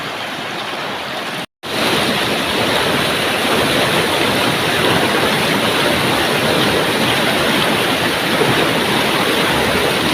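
A Philippine river, the Palakol, rushes in a loud, steady roar of flowing water that fills the scene after a brief cut near the start.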